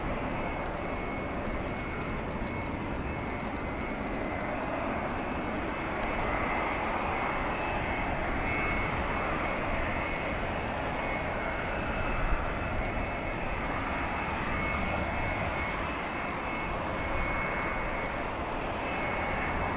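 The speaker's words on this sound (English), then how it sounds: "Cargolux also appears to be taking the middle runway rather than the runway we are stationed at" A Cargolux cargo airplane rolls along a runway at O'Hare International Airport, a steady broad roar of jet engines holding at an even, moderate level from start to finish, heard from some distance.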